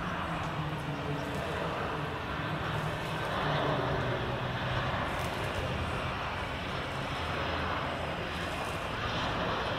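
A VC-32A, a Boeing 757-based government jet, arriving in Hanoi, its engines a steady, loud broadband roar that holds evenly throughout, with no voices.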